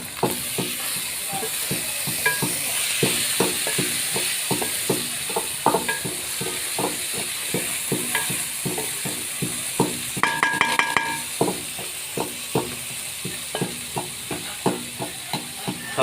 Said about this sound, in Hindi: अब हम इसमें ये दाल शामिल कर देंगे।